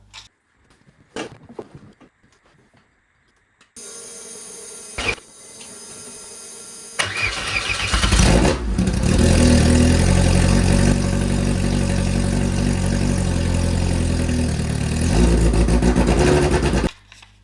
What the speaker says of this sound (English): finally I got my car to start